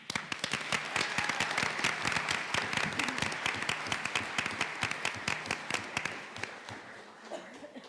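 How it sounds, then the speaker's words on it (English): Audience at a school district board business meeting applauds, many hands clapping with distinct sharp individual claps, fairly faint and roomy, fading out toward the end. "So one more round of applause for them."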